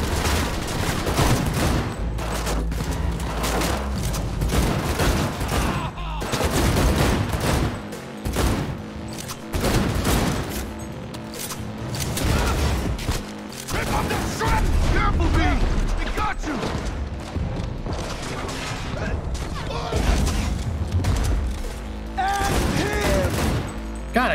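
Rapid gunfire and explosive bursts from Cyberpunk 2077 on hard difficulty during a training firefight, loud and nearly continuous with dense volleys and brief pauses throughout, while a player talks over it.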